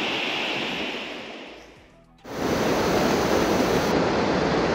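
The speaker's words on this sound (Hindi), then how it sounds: "बगल में देखिए झरना।" Waterfall rushing beside a mountain trail on the Srikhand Mahadev Kailash Yatra, a loud steady broadband roar that dips briefly, then returns full and constant, with no voices.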